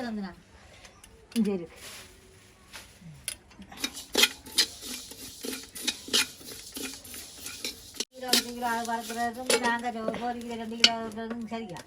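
Spices for homemade chili powder being stirred and dry-roasted in a pan, the Tamil cooking setting marked by scraping, clinking stirs and short metallic ticks, with a voice talking throughout.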